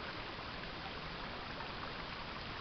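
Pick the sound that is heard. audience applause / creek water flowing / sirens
creek water flowing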